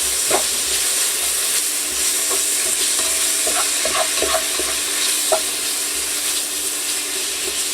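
Bacon fries in oil in a pot for a seafood chowder, a loud steady sizzle with irregular spatters and crackles close by, no voices.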